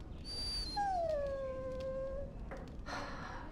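A dog in Dragon Age: Origins lets out a long, drawn-out whimpering howl that slides slowly downward in pitch, then gives a short second whine, heard close and clear over a quiet background.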